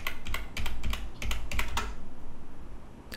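Quick bursts of keystrokes on a computer keyboard as a password is entered, close and clear, with a short pause before one final key press.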